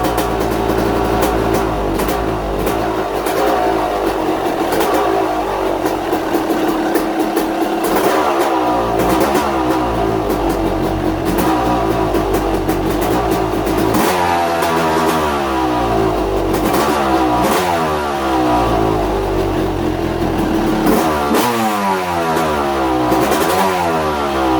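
A Yamaha YZ250 two-stroke motorcycle engine runs loud and close after a rebuild, its buzzy ringing idle repeatedly climbing into sharp revs and falling back over about twenty-five seconds.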